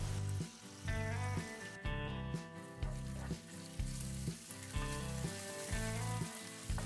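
Ginger, garlic, green chillies and curry leaves sizzle in hot oil in a pan, a soft, continuous frying crackle with a gentle, regular pulsing beneath it.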